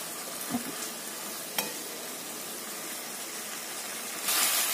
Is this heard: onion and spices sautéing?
yes